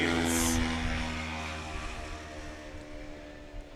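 A STOL airplane at a short takeoff and landing competition, heard as a loud, close propeller engine roar at full power that eases slightly as it moves away, steady with no talk.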